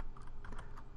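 Computer keyboard typing during an Oracle Linux 8 installation, a quick run of soft, close keystrokes over about a second, quiet and without voices.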